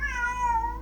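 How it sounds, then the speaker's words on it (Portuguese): A cat gives one drawn-out meow, close and clear, with nothing else over it. "o gato começou a miar"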